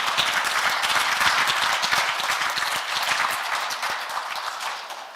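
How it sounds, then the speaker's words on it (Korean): Applause from a lecture audience at a morning special talk, a dense, steady wash of many hands clapping that fills the whole stretch and tapers slightly near the end. "보통 이러면 딴 데 가면 박수가."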